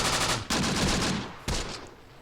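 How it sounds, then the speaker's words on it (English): An Italian machine gun resembling a Bren fires in the wartime video game Close Combat: The Bloody First, with two long, loud automatic bursts and a brief gap between them. "he's got a proper machine gun there"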